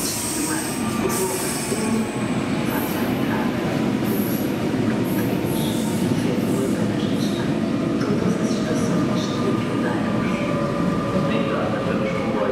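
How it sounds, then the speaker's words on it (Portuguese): Fertagus Series 3500 suburban train at Fogueteiro station, rumbling steadily alongside the platform with high metallic wheel squeals and screeches, loud and close throughout. "o comboio suburbano Fertagus procede de Coina"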